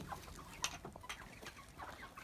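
Chickens cluck softly as new birds are merged into an existing backyard flock in Hawaii, a few scattered close clucks over low outdoor background noise, no talking.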